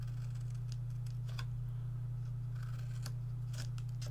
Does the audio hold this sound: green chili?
no